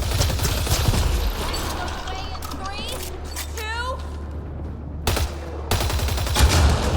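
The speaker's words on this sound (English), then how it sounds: "Shooting the device will destroy it." Gunfire in the video game Mass Effect Andromeda as a Ket device is shot, with bursts of sharp shots, crackling impacts and electronic whines amid game sounds and a voice speaking.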